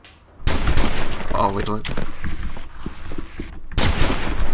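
Rapid gunfire from a one-shot carbine in the first-person shooter STRAFTAT, loud bursts of shots filling most of the moment with a short pause near the end, while a player speaks briefly over the action.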